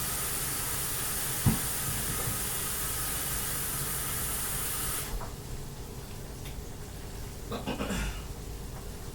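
Tap water running steadily while hands are washed, a broad hiss that changes partway through and becomes quieter and more broken, with a brief knock near the start.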